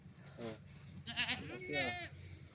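Goats at a livestock seller give three wavering bleats close by, each under a second long. People talk nearby.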